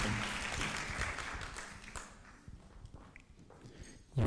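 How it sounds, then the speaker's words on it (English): A crowd at a political meeting in Italy claps in a dense burst of applause that gradually thins out and fades. "Father Dominic, please give him a round of applause."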